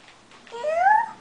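A young child imitates a cat, giving one short, close meow that rises and then falls, with no other voices.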